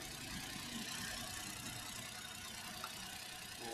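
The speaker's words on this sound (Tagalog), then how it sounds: "na ulit yung andar ng makina natin" A Suzuki DA64W all-wheel-drive minivan's engine idles steadily and quietly after an oil change, a low, even mechanical hum with faint rattling texture running unchanged throughout, no voices present.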